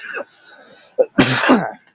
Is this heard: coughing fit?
yes